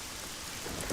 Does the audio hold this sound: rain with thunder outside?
yes